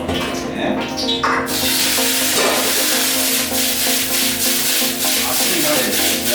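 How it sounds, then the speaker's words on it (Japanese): Potatoes hit a hot wok of salad oil and a little chili oil, then sizzle loudly and steadily while they are stirred and scraped around, with a brief quiet voice early on. "鍋を温めましてじゃがいもを入れますね。"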